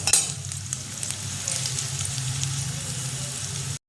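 Onions frying in white oil in a kadhai, a dense, even sizzle up close with a brief clatter at the start, steady until it cuts off.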